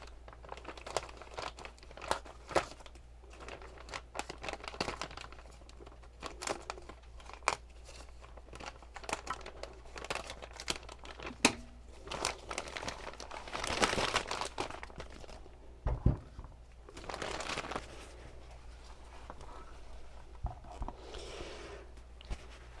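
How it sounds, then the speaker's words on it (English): Plastic packaging around a new power steering pump for a C3 Corvette crinkles and tears in irregular bursts as it is cut open, with faint scattered rustles and snips up close. "So here's the new pump. Just going to cut it out of the bag here."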